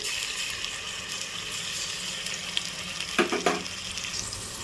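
Onions, green chillies and masala fry in a pan with a steady, close sizzle, broken near the end by a couple of brief scraping stirs.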